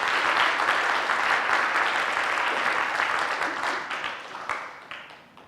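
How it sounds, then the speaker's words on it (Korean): A church congregation claps to encourage the children's choir after their praise song, a dense, even burst that gradually thins and fades toward the end, with a few scattered last claps. "우리 아이들 향해서 격려와 축복의 박수 한번 하겠습니다"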